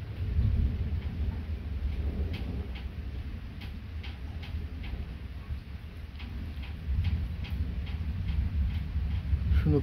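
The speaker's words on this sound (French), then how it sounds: "Je ne comprends rien à cet orage." Thunder rumbles low and heavy during a thunderstorm, swelling at the start and again near the end, with a steady patter of rain and faint ticking drops over it.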